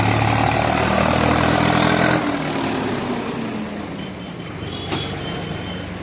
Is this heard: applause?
no